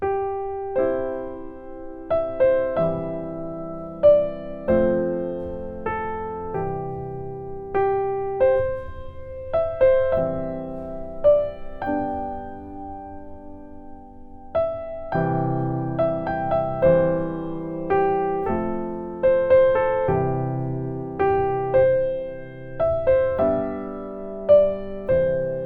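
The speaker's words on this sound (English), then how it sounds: "next is the song Amazing Grace" A piano plays Amazing Grace as written, with a simple melody over sparse chords. The notes are clear and close, with no other sound.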